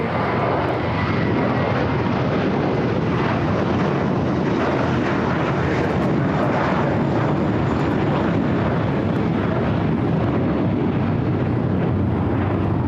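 An airliner takes off from runway 25 right at LAX, its engines a loud, steady broadband roar that holds for the whole stretch.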